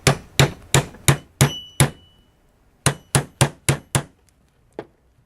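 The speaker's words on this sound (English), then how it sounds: "So now I can hammer on that pin." Hammer striking a pin into the trigger assembly of a Browning Double-Auto shotgun, backed by a small block, with sharp close metallic taps, six in a quick even series, a pause, then five more and one last lighter tap.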